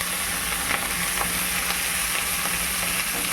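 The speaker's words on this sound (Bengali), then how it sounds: "আবার তেলটা না দিলে ভাজা হবে না" Pomfret paturi wrapped in leaves fries in hot oil in a pan, giving a steady, close sizzle with faint crackles and no talk.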